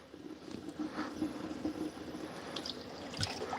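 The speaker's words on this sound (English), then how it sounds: "So grab the end of this, and just let that water run right out." Water drains out of sausage casings being flushed while bratwursts are prepared, a close, soft irregular trickle and splash with light gurgles and a few sharper drips, no speech.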